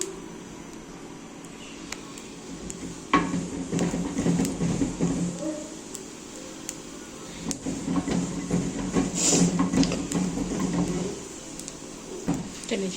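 Kadhi tadka of cumin and thick chillies sizzles in a pan with a moderate, steady frying hiss, rising and falling with a few clinks and soft background sounds.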